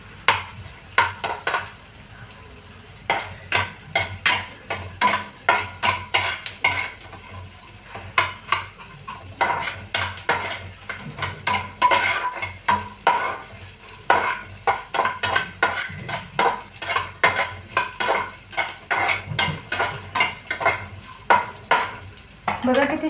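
Edible gum frying in ghee and puffing up like popcorn crackles and sizzles up close, with steady bursts of popping and repeated metallic stirring clinks in a lively, uneven rhythm.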